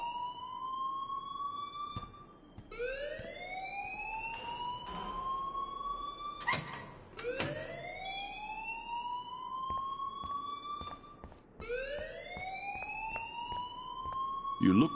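An alarm in the video game Life is Strange wails in repeated rising sweeps, each swelling then cutting off, loud and continuous with brief sharp bangs between cycles.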